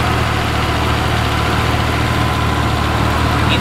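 A modified-intake Chevrolet Camaro SS's 6.2-liter V8 idles nearby, giving a steady, even low rumble throughout with no pauses or revving.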